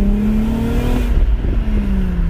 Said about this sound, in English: toasted the tires off there.